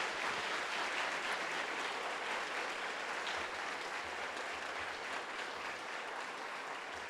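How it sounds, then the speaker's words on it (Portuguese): Applause from a church congregation at a morning service, a soft, distant wash of steady clapping that runs evenly throughout without voices on top. "Dê um aplauso ao Senhor Jesus Cristo nessa manhã"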